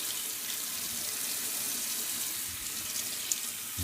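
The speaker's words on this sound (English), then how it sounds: "then go ahead and rinse the soap and the water off" Tap water running steadily to rinse soap off a vinyl record, a continuous close hiss of flowing water with a brief knock near the end.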